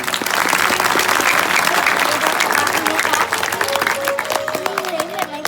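Loud, dense audience applause at a Chhattisgarhi comedy Ramayana stage show, steady clapping from a large crowd filling the whole stretch, with some voices mixed in.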